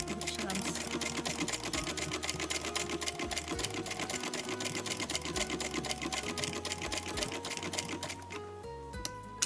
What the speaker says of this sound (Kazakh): Көктеп қазір тігіп шығамыз.